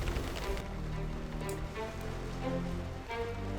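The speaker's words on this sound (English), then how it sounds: "It will rain on plane day." Steady rain patters on a surface during a remote moose-hunting trip on a small lake, a continuous, fairly even wash of drops with no voices.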